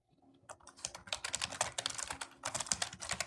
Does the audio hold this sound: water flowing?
no